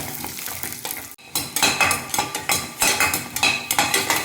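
Peanuts roast in a pan for a healthy laddu, with a brief pause and then close, busy scraping and clattering as they are stirred, over a light sizzle.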